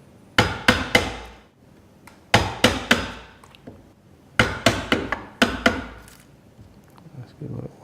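A hammer striking a Marples splitproof chisel into wood, loud sharp blows in quick bursts of two to four hits separated by short pauses.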